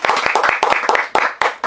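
A small audience claps to welcome a speaker at a book launch in a bookstore, with close, uneven individual hand claps forming a brief, lively round of applause.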